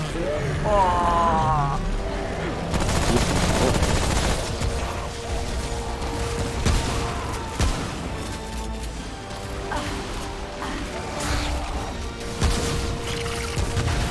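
Revolver gunfire in Remnant: From the Ashes during a fight with the Ent world boss, loud impacts and crashes over a dense game soundscape with voices talking throughout.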